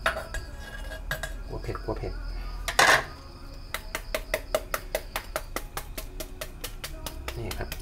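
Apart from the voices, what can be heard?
chopping food with a knife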